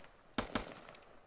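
Two quick gunshots crack out in a military shooter game, sharp close reports about a fifth of a second apart over quiet background noise.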